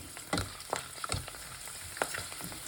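Chicharon fries in hot oil while being stirred, with a continuous sizzle broken by repeated scraping strokes at an uneven rhythm, close and fairly loud.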